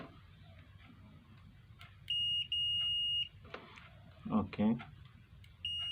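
A multimeter set to continuity gives several short, steady high beeps while probing a rice cooker's cable, with a brief spoken word and quiet handling noise around them.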